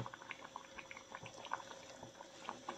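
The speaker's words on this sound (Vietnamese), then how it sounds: "nó sôi đó, cả nhà thấy không? Sôi sùng sục." A pot of fish braised in fermented fish sauce simmering on the stove, bubbling with a soft, steady patter of small pops and gurgles, close but fairly quiet, with no talking.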